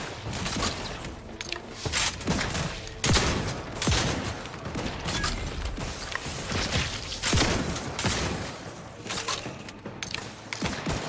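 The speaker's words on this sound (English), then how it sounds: "loading and unloading the shotgun is really satisfying" A shotgun is loaded and unloaded in a space-western video game, with repeated sharp metallic clacks, shell insertions and pump racks at irregular intervals, loud and close, with no talking.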